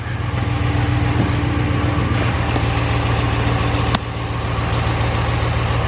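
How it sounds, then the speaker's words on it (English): A Dodge Ram 1500 pickup truck engine with a misfire problem idles steadily with a low, even rumble and a faint mechanical whine, close by and unbroken. "Letting it idle."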